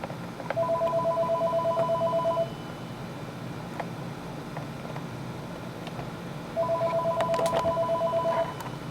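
A telephone in an office phone system rings in two electronic warbling bursts of about two seconds each, separated by a pause, moderately loud over low room hum.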